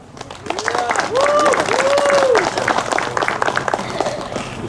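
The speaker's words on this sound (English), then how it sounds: "If everybody could please give a warm round of applause" An audience claps and cheers to welcome Fresno Unified Deputy Superintendent Misty Her, with dense applause swelling and holding while a few high whooping voices rise above it.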